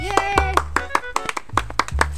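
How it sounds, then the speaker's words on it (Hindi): Sharp, distinct hand claps from a few people at a friends' picnic, spaced in a loose rhythm, with voices sounding between and over the claps. "ताली ताली"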